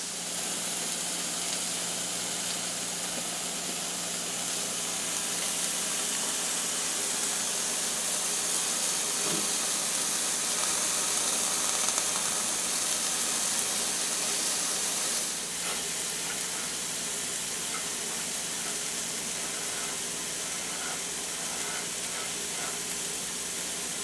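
Thick burgers sizzling on a hot cooking surface, a continuous bright hiss and crackle that holds steady and fairly close for the whole stretch, with no voices.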